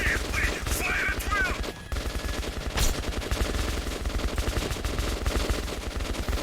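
Rapid gunfire in the Metro 2033 video game, dense bursts of automatic fire repeating almost nonstop at close range, with a brief lull midway, loud throughout.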